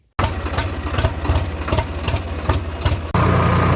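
A tractor engine idles in the Farming Simulator video game, a loud close mechanical rumble with a regular pulsing beat that shifts to a steadier drone near the end.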